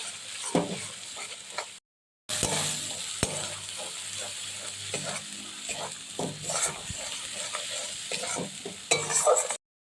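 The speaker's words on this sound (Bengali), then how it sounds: "এবার আবারও নাড়াচাড়া। কষতে তো হবেই।" Elephant foot yam and prawns stir-fried with ground chilli and turmeric, a loud continuous sizzle with frequent scraping of a spatula against the pan, briefly cut off near the start, then resuming.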